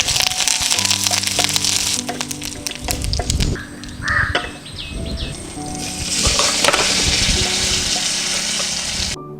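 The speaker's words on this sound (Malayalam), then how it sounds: "ഇനി നമുക്ക് വറ്റൽമുളകും കറിവേപ്പിലയും കൂടെ ഇട്ട് കൊടുക്കാം." Dried red chillies and curry leaves fry in hot coconut oil with popped mustard seeds for an okra curry, giving a loud, steady, close sizzle with crackling and occasional spoon clinks throughout.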